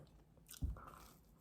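A single close bite into crunchy toast made on the toast setting of an oven-type air fryer, crisp outside and soft inside, giving one sharp crackling crunch followed by brief soft chewing, quiet overall.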